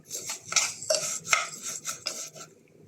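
Rice being stirred into golden toasted vermicelli in a metal pot, giving a series of scraping, clinking spoon strokes roughly every half second, close and moderately loud.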